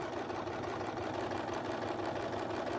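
A sewing machine stitches fabric along a curved decorative line, its motor whirring steadily and close throughout with a fast, even needle rhythm.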